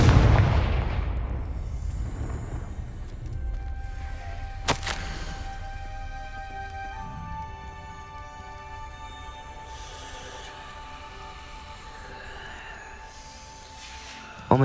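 Fire spell explosions in the video game Hogwarts Legacy: a deep boom opens, followed by a sharp blast a few seconds later, then a long fading rumble under ringing musical tones.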